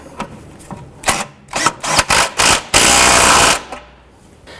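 Tie rod nut being snugged down on a 2006-2011 Honda Civic during wheel bearing and hub work, a series of sharp clicking bursts from a tool, then a sustained louder buzzing run before quieter clicks resume.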